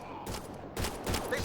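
A rapid fusillade of gunfire comes in short, sharp bursts during a firefight in Mass Effect Andromeda, with brief quieter gaps between volleys.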